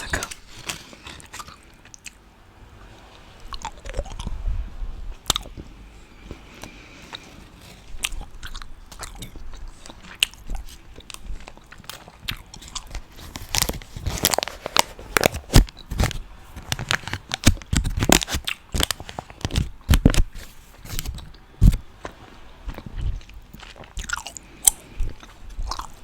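Two pieces of Double Bubble original flavor bubblegum chewed close to the microphone, with wet irregular smacks and crackles that grow busier and louder over time.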